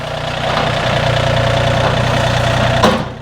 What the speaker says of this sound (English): operating the tractor now